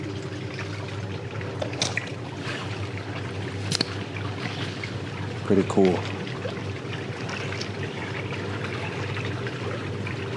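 Water flowing like a river, a continuous broad rushing wash under a steady low hum, with brief splashy bursts and a short spoken remark.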